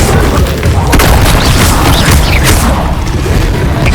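Loud spell blasts in the video game Hogwarts Legacy, a dense, continuous rumble of booms and crackling bursts heard close.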